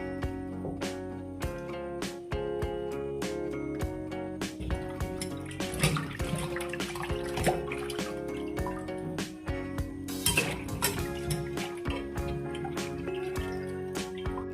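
Fish being washed in water in a kitchen before making fish curry, a continuous close run of splashing, dripping and clattering handling noises, busy and uneven throughout.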